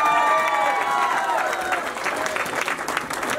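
Audience applauding for Amit Bhakta at an appreciation gathering, steady clapping throughout with music tones and crowd murmur underneath.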